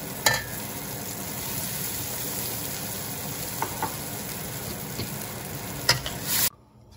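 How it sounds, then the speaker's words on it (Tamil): Cooked lentils (dal) are stirred in a pot with a soft, steady bubbling hiss and a few sharp clinks of a spoon against the metal, close by before cutting off. "பருப்பு போட்டு நல்லா நம்ம கலக்கியிருக்கோம்"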